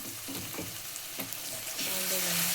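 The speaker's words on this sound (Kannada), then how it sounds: "ಅದನ್ನು ಬಾಣಲಿಗೆ ಹಾಕಿ ಫ್ರೈ ಮಾಡಿ" Ground tomato paste frying in a hot pan, soft sizzling with a few stirring scrapes, growing into a brighter, louder hiss toward the end.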